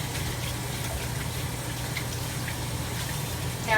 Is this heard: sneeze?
no